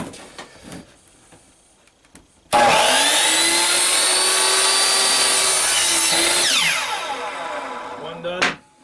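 A power tool bites into a piece of wood to cut a hole for a sim racing cockpit brake pedal. The loud, steady whine and grind runs for about six seconds after a quiet stretch, then tapers off with a final short rasp.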